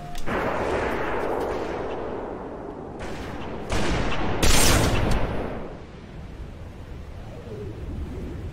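Gunfire in the video game Halo: loud bursts of shots and blasts over a continuous rumbling din, swelling sharply midway before easing off, with no voices.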